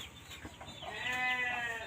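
Javanese goats in a pen bleat in a wavering, moderately near call, with softer animal noises and pen sounds around it.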